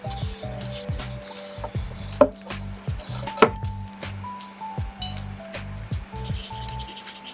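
A sheet of watercolor paper with a wet painted area is flipped over on a work surface, giving soft rubbing and scraping sounds with a few sharp taps, close and fairly quiet, over faint background tones.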